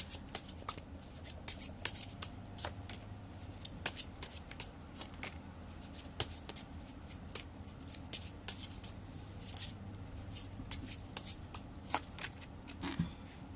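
Tarot cards shuffled by hand at a table during a Thai horoscope reading, a close, steady run of crisp riffling flicks and soft slaps repeating throughout, with low background hum and no speech.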